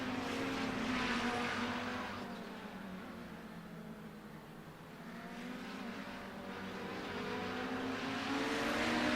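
Several 700 hp Audi 90 GTO race cars plunging downhill together at the Nürburgring. A fairly faint, steady engine drone rises and falls in pitch as the cars sweep through, with no voices.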